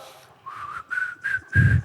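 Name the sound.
whistling a tune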